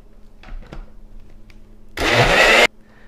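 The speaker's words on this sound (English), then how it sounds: "now we'll add our 2 whisked egg whites. And we'll blend that up" A kitchen blender whirs loudly for under a second as it blends a jalapeno lime serrano tomatillo mopping sauce with two whisked egg whites, starting abruptly after a few faint clinks and cutting off sharply.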